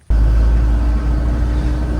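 A truck engine starts up and rumbles steadily with a deep, loud drone as it drives off carrying a scooter in Sihanoukville, Cambodia, close by with no talking.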